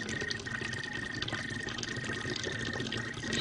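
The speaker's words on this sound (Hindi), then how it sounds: "शायद किसी ने नल खुला छोड़ दिया होगा।" Water runs from an open tap at night, a steady, moderately quiet gushing stream that continues unbroken and swells slightly toward the end.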